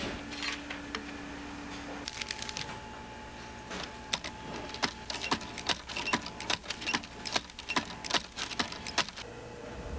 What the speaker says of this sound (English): This machine's been making about 1 million tabs a year since the turn of the century.